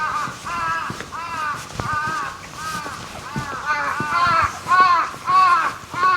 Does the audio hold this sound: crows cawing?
yes